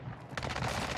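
Automatic rifle fire in a Call of Duty match on the Vondel Park map, a quick burst of close, loud shots breaking in after a short quieter lead-in.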